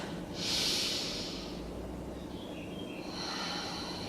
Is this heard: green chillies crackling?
no